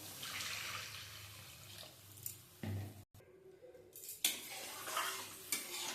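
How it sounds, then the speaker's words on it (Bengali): Water is poured into sizzling masala for a fish curry, giving a hissing splash and bubbling over a steady fry sizzle, with a brief clatter of utensils and stirring, and no talking. "পরিমাণ মতন জল দিয়ে দেবো।"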